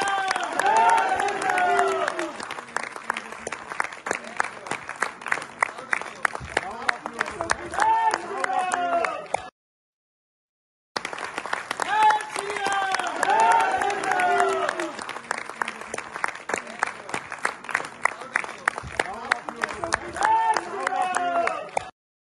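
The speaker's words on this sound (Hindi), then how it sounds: "लोगों ने तालियों से उनका स्वागत किया" Audience clapping in a cinema hall during a stage appearance, steady dense applause mixed with crowd noise, broken by a short gap of silence midway.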